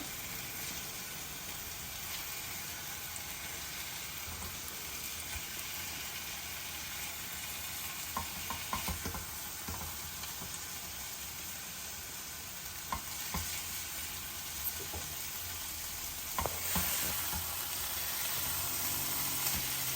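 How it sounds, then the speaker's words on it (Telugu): Brinjal slices fry in a pan with a steady, close sizzle, broken now and then by light scraping and clatter as the pieces are turned. "రెండో వైపు కూడా మాడకుండా అప్పుడప్పుడు తిప్పుకుంటూ చక్కగా వేగనియాలి"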